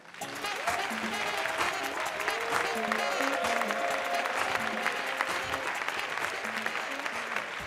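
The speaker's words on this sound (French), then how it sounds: "Mesdames et messieurs, un tonnerre d'applaudissements pour Kassim." A theatre audience bursts into steady, dense applause for a comedian taking the stage at a live stand-up comedy show, sustained throughout with scattered cheers mixed in.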